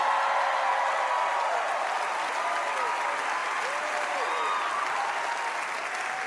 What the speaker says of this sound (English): is where you guys should applaud and go crazy